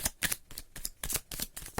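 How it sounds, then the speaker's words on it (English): Tarot cards from a Romance Angels deck are shuffled up close in quick, crisp riffling bursts, about eight short rustles in under two seconds, with no voices. "I'm gonna shuffle them in front of you because I think it's better."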